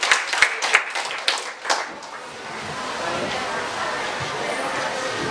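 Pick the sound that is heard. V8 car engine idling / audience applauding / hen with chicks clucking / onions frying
audience applauding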